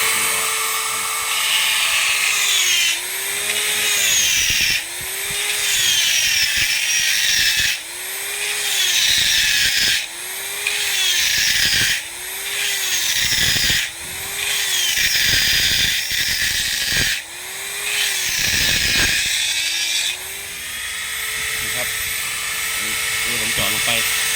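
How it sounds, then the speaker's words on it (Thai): A power drill bores into an Eaton gearbox being repaired for gears slipping out, whining in repeated bursts that sag in pitch under load and then recover, close and steady over about twenty seconds. "ก็มาเจาะข้างบนก่อน"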